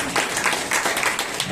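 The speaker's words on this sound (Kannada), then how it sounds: "ಚಪ್ಪಾಳೆ ತಟ್ಟೋಣ." A church congregation at a Sunday Kannada worship service applauding, dense, steady clapping from many hands filling the whole moment.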